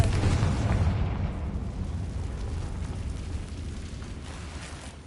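A Confringo blasting spell explodes in a video game, a heavy, booming blast that starts loud and rumbles away over several seconds with no talking.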